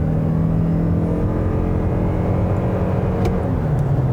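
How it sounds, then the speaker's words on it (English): A 2021 Toyota RAV4 Prime plug-in hybrid accelerates hard, its internal combustion engine giving a loud, steady, close droning roar that holds throughout without talk. "It's got a noisy internal combustion engine that's making all the noise"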